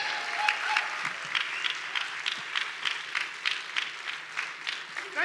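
An audience at a celebration applauds steadily, a crowd of hands clapping with a slightly uneven rhythm, moderately loud and free of talk.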